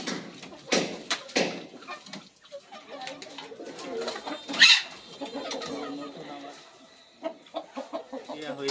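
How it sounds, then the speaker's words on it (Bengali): Quail give short clucking and chirping calls close by in a small flock, scattered bursts with a sharp high call midway, while someone talks in between. "তিনটি কোয়েল"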